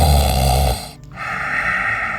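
A person snoring in sleep, a low rumbling breath that fades out briefly before a quieter, raspy continuation, heard close and alone.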